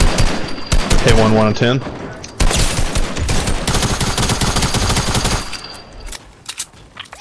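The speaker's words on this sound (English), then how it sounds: "he's getting shot at" Dense video-game gunfire: rapid automatic bursts and sharp single shots, loud and close, rattling almost continuously and fading near the end, while players talk over it.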